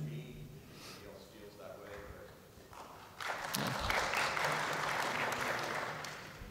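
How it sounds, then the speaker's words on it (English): At an EVE Fanfest 2012 art panel, a room goes from quiet with some talk to sudden audience applause about halfway through, the clapping loud and sustained until the end. "We don't know which of one of the guys you're applauding"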